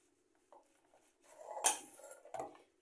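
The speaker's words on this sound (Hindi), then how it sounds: "इसे अच्छी तरह से हम मिक्स कर लेते हैं सारी सब्जियों को" Vegetables being stirred with veg mayonnaise in a bowl for a sandwich filling: a few soft scrapes and clinks of a spoon against the dish, with one sharper clatter near the middle, quiet and close.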